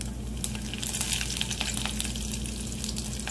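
Cumin seeds and curry leaves fry in hot oil in a pan, giving a steady, dense crackling sizzle that holds at an even level throughout, close and alone with no voices.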